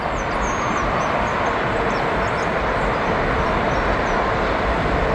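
Trains roll past in a steady, loud, broadband rumble of wheels and cars that holds evenly throughout, with no voices.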